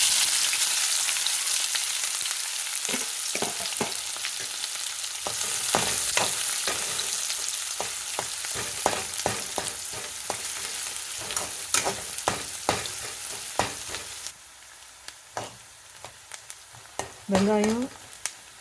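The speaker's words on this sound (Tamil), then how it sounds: "வெங்காயம் சிறிது பொன்னிறம் ஆகிற அளவுக்கு நல்லா வதக்கிக்கணும்" Shallots and curry leaves sizzling in a hot pan, a constant frying hiss with intermittent scrapes and clinks of a spoon stirring, close by.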